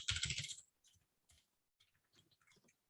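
Quick burst of computer keyboard typing, close and fairly loud, lasting about half a second before trailing into a few faint, sparse key clicks.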